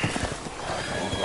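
A short, loud horse neigh from the video game Resident Evil Village rings out with a shaky, rising whinny, alone and close.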